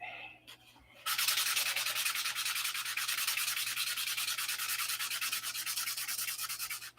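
Hand sanding of Superfill filler on a surface: a steady, fast back-and-forth scratchy rasp that starts abruptly after a second of quiet and continues close and loud with an even rhythm to the end.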